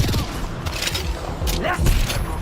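Gunfire in a battle royale video game, a dense run of sharp shots and mechanical clatter under a near-constant layer of game noise, with a voice speaking briefly.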